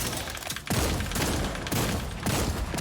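Rifle skill shots from a Gunslinger character in the game Time to Hunt, three loud booming bursts spaced about a second apart over a steady noisy background.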